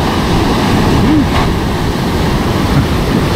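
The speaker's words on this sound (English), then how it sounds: "Healthy waves today." Surf rolls onto a New Jersey beach during the fall striped bass run, a loud continuous wash of breaking waves with wind buffeting the microphone.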